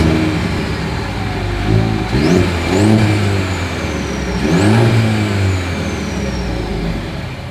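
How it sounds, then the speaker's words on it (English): A 2024 Mercedes-Benz GLC 300's dual exhaust idles, then is revved twice in quick blips that rise and fall, heard close from behind the car with a steady low rumble between. "here is that exhaust clip"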